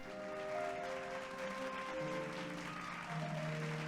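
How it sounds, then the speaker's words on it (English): Applause from a crowd in a Final Fantasy XIV cutscene, a steady dense clapping sustained throughout under a tonal musical drone, with no voices. "Clap, everybody, clap."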